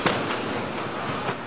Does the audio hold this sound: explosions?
yes